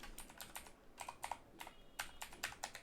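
Fast bursts of keystrokes on a computer keyboard while building an HTML table portfolio page, crisp clicks in quick irregular clusters separated by short pauses, close and fairly quiet, with no voices.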